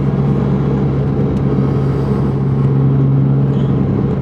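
An exotic car engine runs at close range, a loud, steady droning rumble with a strong low hum that holds evenly for a few seconds without any talking.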